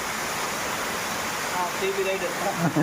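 The Pilligundam waterfall in dense forest gives a steady rushing roar of falling water, even and continuous, with faint brief tones rising near the end.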